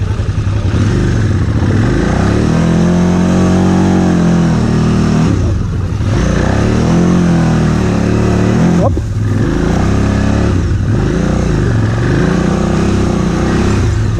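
Loud motorcycle engine from a KTM 990 Adventure or Yamaha Tenere 700 on a Sunday ride, revving and surging through rising and falling pitch sweeps, with brief dips near six and nine seconds, continuous and close.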